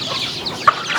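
Chickens with newly hatched chicks cluck softly and steadily at close range, with one brief, sharper call standing out partway through.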